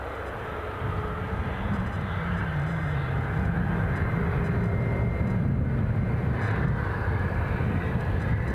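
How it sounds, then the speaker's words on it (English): A British Airways jet at Edinburgh Airport starts taxiing out for Heathrow, its engines giving a steady, broad roar that holds at a fairly constant level from start to finish. "So there's the Heathrow flight, about to start taxiing out"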